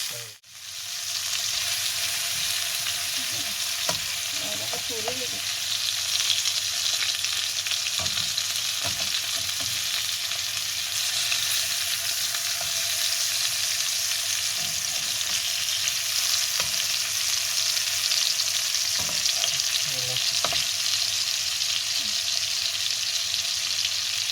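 Salmon fillets sizzle in a frying pan after being turned over, a steady, dense hiss that stays even for the whole stretch, with a few faint knocks and scrapes in the pan and no talking.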